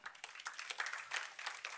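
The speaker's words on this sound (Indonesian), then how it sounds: "Tepuk tangan yang dahsyat." A church congregation claps during a sermon, a burst of quiet, dense applause that carries on without a break. No one talks.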